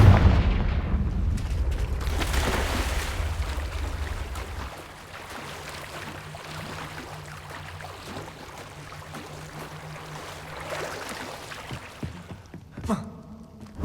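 Confringo fire spell explosions in the video game Hogwarts Legacy, opening with a loud, deep rumbling blast that fades over several seconds into quieter ambience before a smaller burst near the end.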